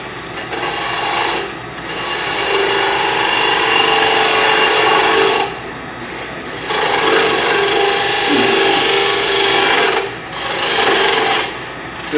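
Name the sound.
woodturning tools shaping a natural edge winged bowl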